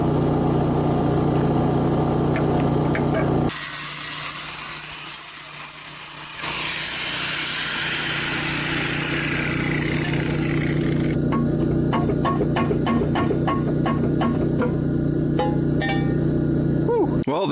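Power tool cutting open the tank of a towable excavator, a continuous loud grinding whine with shifting pitch that briefly drops, then rises again, ending in a run of rapid ticking and clinking.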